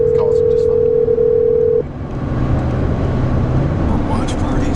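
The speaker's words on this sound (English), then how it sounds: "Hey Siri, call Noah" A phone call placed hands-free through Siri inside a car: a steady tone holds for almost two seconds, then cuts off, leaving the car's low cabin rumble with a faint lower tone beneath it.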